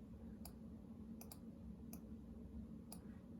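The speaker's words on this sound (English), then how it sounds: "So I'm just gonna click on that one" Computer mouse clicking at a desk, a handful of faint, crisp single and double clicks spaced irregularly over a low steady room hum.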